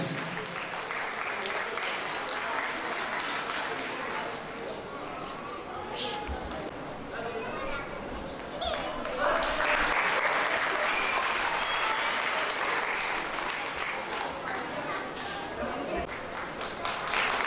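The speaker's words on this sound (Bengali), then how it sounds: "জোরে করতালি হবে। জোরে করতালি।" At an anniversary award ceremony, a crowd keeps up sustained applause for a long stretch. The clapping is dense and moderately loud and swells partway through, with some voices faintly under it.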